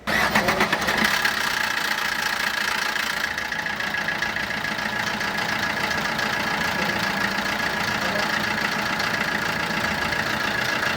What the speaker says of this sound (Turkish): Araca kapanışı vermeden önce son bir defa marş yapıyoruz. Bir sesini duyalım.